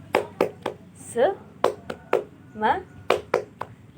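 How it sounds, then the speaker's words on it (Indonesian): A classroom of children performs the 'tepuk semangat' clapping chant, sharp unison claps in a quick rhythmic pattern alternating with short chanted vocal bursts, close and clear. "Tepuk semangat."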